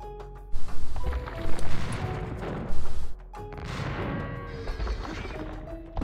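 Cannons fire in Age of Empires II during a castle siege, giving several sharp booming blasts in short groups over a steady din of battle and game music.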